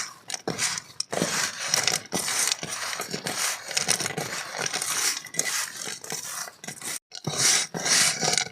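Cut potatoes for french fries are tossed and mixed in a bowl, giving a continuous rough, scraping rustle with brief pauses, close and fairly loud, with no talking.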